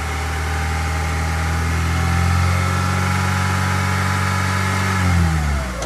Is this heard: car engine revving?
yes